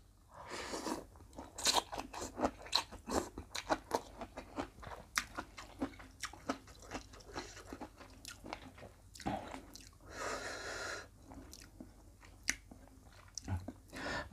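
Close, wet chewing and crunching of minced meat with vegetables, served with fresh rice noodles and fermented fish sauce, in irregular repeated bites with no talking.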